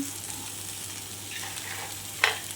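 Cleaned crab going into hot sizzling masala for a crab roast, a continuous close frying hiss with a short sharp clatter near the end.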